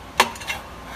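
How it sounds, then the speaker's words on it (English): Cranberries dropped into a warmed pot: one sharp clatter, then a couple of softer taps and rattles, close and quiet, with no voices. "I'm gonna add my cranberries to the pot that I've had warming up"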